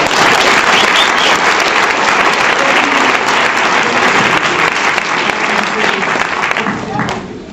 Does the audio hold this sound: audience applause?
yes